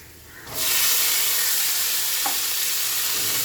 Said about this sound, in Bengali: এবার মটর আলু একসঙ্গে সিদ্ধ করে রেখেছিলাম, এবার আমি কড়াইয়ের মধ্যে দিয়ে দেবো।